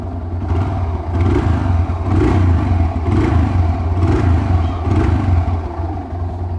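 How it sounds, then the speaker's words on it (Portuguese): A Yamaha YBR 125 motorcycle with its stock exhaust, no washer fitted, idles nearby with a loud, throbbing burble, swelling in a few rhythmic surges as the throttle is blipped. "a diferença do som da moto escape original sem a arruela"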